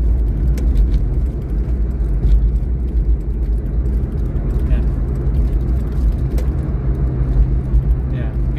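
Big trucks rumble past on the South Luzon Expressway near Calamba, a heavy low engine and road drone heard from inside a moving vehicle, continuous and close, while a person talks briefly over it.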